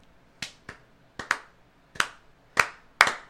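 Six or seven sharp hand claps spaced slowly and unevenly, gradually building in loudness like a deliberate slow clap, with no talking.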